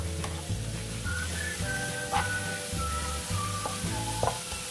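Carrots and onions frying in a pan, a steady close sizzle with occasional spattering pops and stirring scrapes, continuous throughout with no talking.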